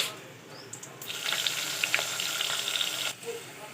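Bay leaf, star anise, black pepper, cloves and onion fry in oil with a soft, close sizzle that swells after the first second and drops off near the end, alone and fairly quiet.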